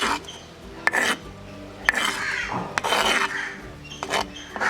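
Thuthuvalai leaves, onion, garlic and tamarind are ground in a kitchen grinder or stone for sambal, giving a steady rasping, scraping grind with several sharp clacks and bumps throughout, close and fairly loud, with no talking.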